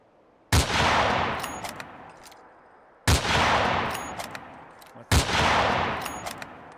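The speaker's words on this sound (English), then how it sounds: "I heard some gunfire." Three heavy gunshots from Fallout 4 boom at regular intervals, each a sharp loud blast with a long rumbling decay that trails off before the next.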